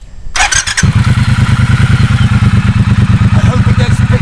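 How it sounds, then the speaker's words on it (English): A 2021 Triumph Speedmaster motorcycle engine, Euro 5 compliant, fires up after a few clattering starter bursts, then settles into a loud, steady, throbbing idle close by. "it is without question the best sounding Euro 5 motorbike I've ever heard"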